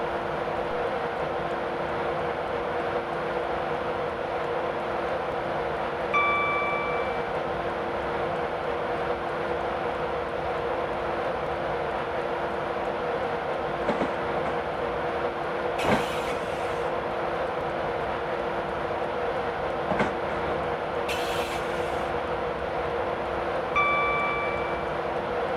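A Class 91 electric locomotive runs at full power in Train Simulator 2015 on the London to Peterborough line, giving a steady, loud traction drone with occasional clicks and brief rail knocks throughout.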